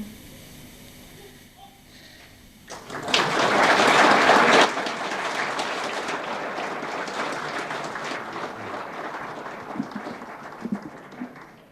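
An outdoor crowd at a 1996 heritage ploughing display at Millstreet Country Park breaks into applause, a sudden loud burst that peaks briefly and then tapers into sustained clapping for several seconds.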